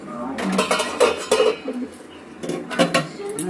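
A cooking pot of chicken stew comes off the stove with clanks and scrapes of metal against metal, a handful of close clattering knocks spread over a few seconds, with a little rustling between them.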